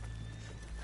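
Horses walking in the video game Red Dead Redemption 2, a soft clip-clop of hooves with a brief whinny over a steady low rumble of ambience, no talk.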